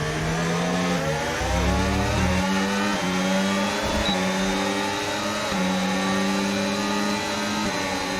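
A pack of F1 cars in the F1 25 racing game at Abu Dhabi scream down the straight in a close DRS battle, a loud, high engine whine rising and shifting through gears with overlapping cars.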